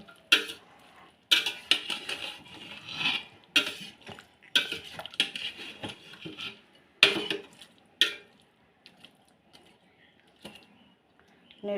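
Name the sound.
stirring ground garlic and spices in a cooking pot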